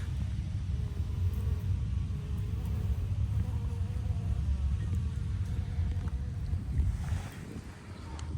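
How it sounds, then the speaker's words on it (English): A small young bee buzzing outdoors in summer heat, a low continuous insect drone with a breezy, windy wash underneath that eases slightly near the end. "Oh, it was a baby bee."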